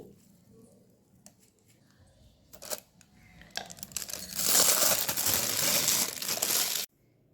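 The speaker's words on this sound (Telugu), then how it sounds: "ఒక పైపింగ్ బ్యాగ్ తీసుకుని చివర్లో కొద్దిగా కట్ చేసుకుని" A plastic piping bag filled with paneer paste crinkles and rustles in short bursts, then a longer loud spell of crumpling handling as its tip is cut, before stopping abruptly.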